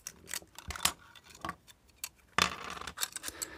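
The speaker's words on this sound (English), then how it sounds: "So I'm going to cut those wires." Small wires on an aircraft seatbelt sign are snipped with cutters, giving faint, close, sharp clicks and snaps in a loose irregular series, with soft handling rustle between them.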